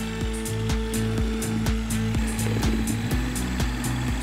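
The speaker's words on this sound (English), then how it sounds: "stirring to blend thoroughly and evenly using a slow speed drill fitted with a mixing blade" A power drill fitted with a mixing blade whirs steadily at a slow, even speed, stirring floor resurfacing resin, with a rhythmic pulsing hum, close and continuous.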